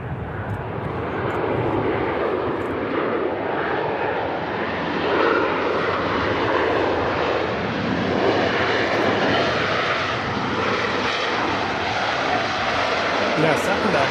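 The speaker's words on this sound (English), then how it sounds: "Ryanair 737-800 from Alicante. He just got hit with some bit of breeze there." Ryanair Boeing 737-800 arriving from Alicante and landing at Manchester Airport in a gusty breeze, a steady loud roar of jet engines sustained throughout, heard from the ground at fairly close range.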